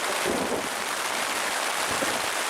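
Loud, close rain begins falling during an evening thunderstorm in the Temagami wilderness, a continuous broad patter and rush with no voices.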